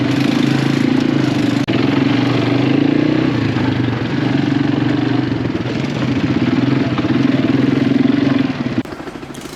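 Quad bike engine running steadily and loudly up close on a ride in Bali, a sustained low throbbing drone with rattling clatter, cutting off sharply near the end.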